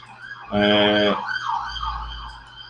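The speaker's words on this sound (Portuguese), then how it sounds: "Deixa eu passar essa ambulância aí." Ambulance siren passing outside a room, a loud wailing tone that swells in for about half a second, then fades and warbles into the distance.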